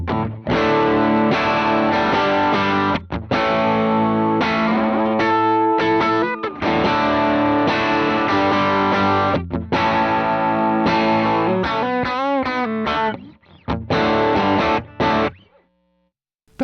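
Overdriven electric guitar through a Tonex amp modeler, playing loud distorted chords and bent lead notes in bursts with short pauses, ending in a fading tail and silence.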